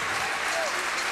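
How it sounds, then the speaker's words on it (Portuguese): A football crowd at a Belenenses versus Braga match applauds a substituted player, a dense steady wash of clapping from the stands under a commentator's voice. "Cândido Costa que é aplaudido não só pelos adeptos da casa, como também pelos adeptos do Sporting de Braga."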